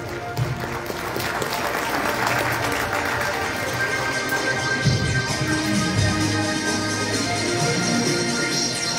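Steady, loud applause fills a hall at a university graduation ceremony as a business administration graduate is honoured, a dense continuous wash of clapping lasting throughout with a faint voice or murmur mixed underneath.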